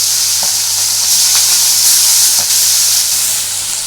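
Round pieces of garfish sizzling in hot oil in a pan on a gas stove, a loud steady hiss with a few faint stirring taps.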